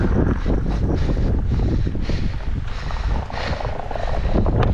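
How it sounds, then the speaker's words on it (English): Strong wind buffets a helmet or body microphone while skateboarding outdoors, a loud continuous low roar with gusting swells across the whole stretch and no talk. "I know the wind's probably annoying as far as like watching this video"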